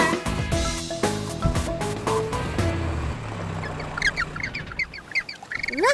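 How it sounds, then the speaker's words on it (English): Cartoon yellow-eyed penguins give loud, animated squawking calls in a rapid series toward the end, following a stretch of bright children's animation music. "A yellow-eyed penguin is shouting too."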